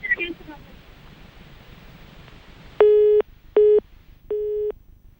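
Three loud, clean busy-signal tones on a dropped phone line sound one after another, following a stretch of faint background noise.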